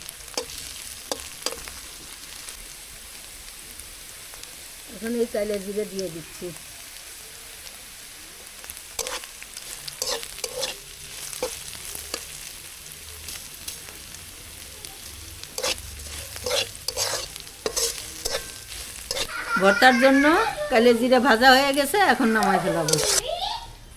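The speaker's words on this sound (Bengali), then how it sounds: "পেঁয়াজ রসুন আর কাঁচা মরিচ প্রায় ভাজা হয়ে আছে" Onion, garlic and green chili sizzle and crackle steadily in oil in a pan, with scraping stirs and brief voices speaking near the middle and end.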